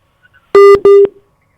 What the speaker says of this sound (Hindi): तो फोन कट गया।